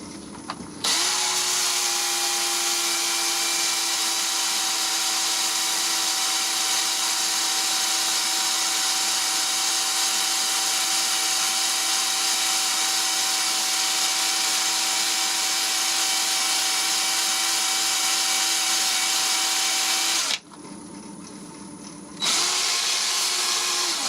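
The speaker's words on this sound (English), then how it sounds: "I need to be sanding this quite a bit because this is softwood" Steady, loud whine of a wood lathe spinning a softwood bowl while it is sanded, a continuous drone holding for about twenty seconds, then a brief drop before the motor noise comes back up.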